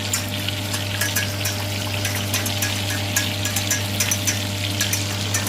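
Eel fries in a pan with a loud, close, continuous sizzle and crackle, spitting in quick irregular bursts over a steady low hum, with no talk.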